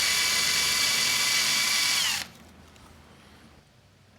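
An eraser wheel on a drill removing adhesive from a Harley-Davidson tank badge: a loud, steady high whine for about two seconds, then it cuts off abruptly and leaves a quiet room.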